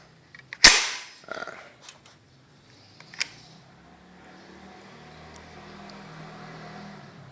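A sharp, close crack from a Hatsan 14-inch semi-automatic air rifle opens the clip, followed by a few lighter mechanical clicks and one smaller snap, then a quiet low hum.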